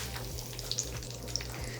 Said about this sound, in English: let these curry leaves sizzle for a bit